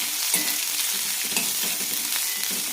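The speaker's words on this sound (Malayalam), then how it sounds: "നന്നായി വഴറ്റിയെടുക്കാം." Sliced onion and slit green chillies sauté in a pan, giving a steady, close sizzle with soft scraping and stirring throughout. No voices are heard.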